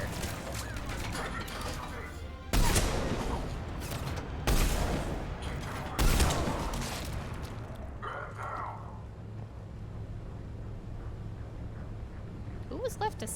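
Sniper rifle shots in Mass Effect, three sharp loud cracks spaced a couple of seconds apart, followed by quieter mechanical clicks and game ambience with a voice talking.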